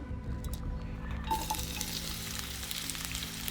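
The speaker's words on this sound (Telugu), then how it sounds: "కాజు ఉల్లిగడ్డలు మనం నూనెలో కొంచెం ఫ్రై చేసుకుందాం" Cashews and onions frying in oil for a spiced eggplant masala dish give a steady close sizzle and crackle that holds constant throughout, with no talking.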